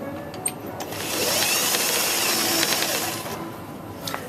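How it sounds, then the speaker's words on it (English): Sewing machine stitching a pillow case seam, a close, steady mechanical whirr that ramps up after a brief start, runs evenly for about two seconds, then stops, with light clicks at both ends. "So if I stitch this, I'm going to just do it from this end so you can see."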